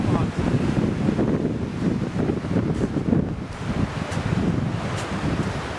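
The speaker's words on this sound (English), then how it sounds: "Behind us there's two waterfalls." Two waterfalls roar as a steady broadband rush, loud and continuous throughout, with wind buffeting the microphone and no clear talk.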